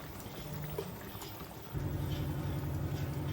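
Water is poured into a pot of Gujarati stuffed eggplant (bharva baingan) curry. A soft background gives way partway through to a louder, steady pouring rush that continues to the end.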